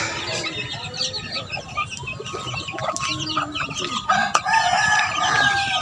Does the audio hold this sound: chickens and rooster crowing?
yes